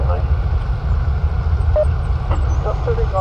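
A B-25 bomber landing at the National Museum of the USAF during the Doolittle Raid 75th anniversary, its steady, loud low engine roar filling the whole stretch with some faint background chatter.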